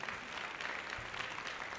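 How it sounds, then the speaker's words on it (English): Audience applause at a school winter band concert, a steady wash of many hands clapping throughout the short stretch, moderately loud and without talk. "give Mr. Konopke a big round of applause"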